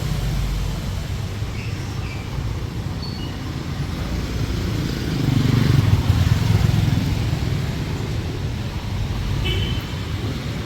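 Continuous street traffic in Da Nang, Vietnam, with motorbike engines droning past, swelling louder around the middle, with faint distant horn toots.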